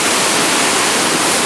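Niagara Falls roaring at the Cave of the Winds, a loud, steady, broadband rush of crashing water very close, constant throughout without speech.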